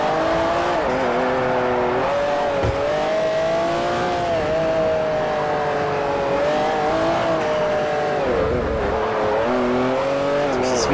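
A Saleen S5S engine in the Forza 4 racing game drones loudly and steadily for the whole stretch, its revs swelling and dipping as the car laps the track.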